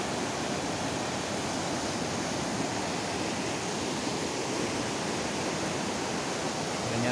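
River water flows steadily as a loud, dense, unbroken rush with no pauses or voices over it.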